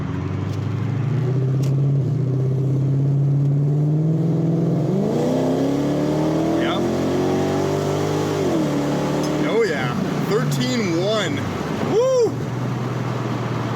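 Infiniti Q45 sedan driven along a town main street in second gear, with a steady, loud engine drone that rises and falls slightly; someone talks over it through much of the stretch.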